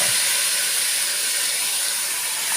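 Loud, continuous sizzling hiss of ginger, onion and garlic sautéing in a pan for chicken tinola, steady and close with no pauses.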